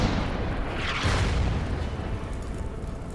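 Tank and armored car firing in the wargame Order of Battle, heard as a steady low rumbling boom with a brief swell of blast noise, no talking.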